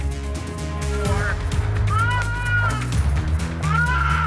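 A cat meows several times, rising and falling cries over a low rumbling background with other animal noises mixed in.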